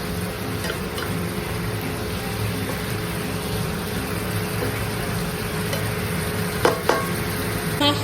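Prawns and fish pieces fry and get stirred in a wok, a steady close sizzle with scraping stir noises and a couple of sharper clinks near the end.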